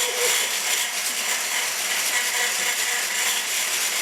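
An electric mixer on its turbo setting whips room-temperature egg whites for a two-ingredient chocolate cake, a loud, steady, high whirring drone held evenly throughout with no voices.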